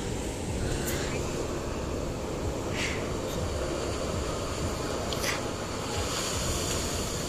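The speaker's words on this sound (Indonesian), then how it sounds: "lihat nih, ombak." Ocean waves and surf wash continuously along the coast at Ranca Buaya in Garut, a steady broadband roar mixed with wind, with a few faint voices and brief sounds over the top.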